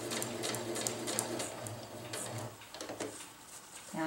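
A sewing machine stitches a winter tarp in a steady, close, continuous run, its needle patter holding evenly with a slight dip near the end.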